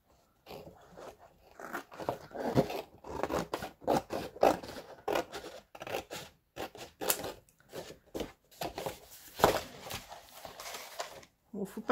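Paper being trimmed with scissors for a scrapbook album, a run of crisp, close snips and crunching cuts in an irregular rhythm with short pauses between strokes.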